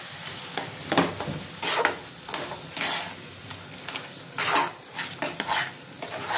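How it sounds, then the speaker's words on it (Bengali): A spoon stirs lentil paste mixture in a pan, scraping and sizzling in repeated strokes, loud and close, with clinks of utensil against the pan and no talking. "ডাল বাটার সঙ্গে ভালো করে এটা মিশিয়ে নেব।"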